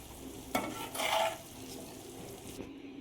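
Raw mango pickle stirred in a pan gives a soft, low sizzle with a couple of brief scraping strokes early on, then settles into a quiet, steady fry.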